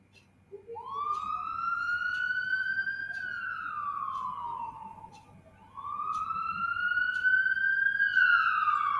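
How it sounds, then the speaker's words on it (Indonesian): Ambulance siren wailing in a rising and falling sweep, starting faint and growing louder as it approaches, with a brief dip midway before swelling again, heard alone over a low steady hum. "Tadi aku mendengar ada suara sirine ambulan dari kejauhan."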